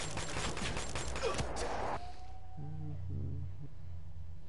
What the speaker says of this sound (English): More shots, guys.